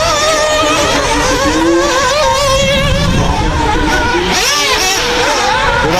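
An auto racing car enters the pit lane at a French elite championship race, its engine whining and revving loudly up close and shifting pitch as it accelerates and slows, with no talk heard over it.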